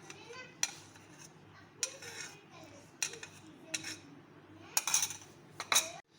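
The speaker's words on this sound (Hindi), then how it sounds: "ये आधी प्याली मायोनीज़ है और आधी प्याली से कम जो है क्रीम है। इसको मिक्स कर लूँगी।" Mayonnaise and cream being mixed in a bowl, with a utensil clinking and scraping against the dish in irregular bursts, close and fairly quiet, no talking.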